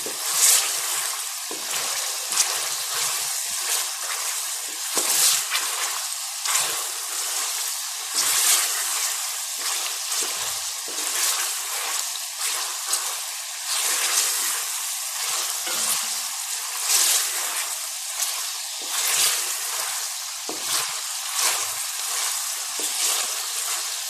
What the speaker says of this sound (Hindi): अब मैं इसे इसी ऑयल के अंदर 2 से 4 मिनट तक फ्राई करूंगी।